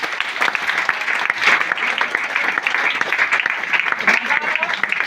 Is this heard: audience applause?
yes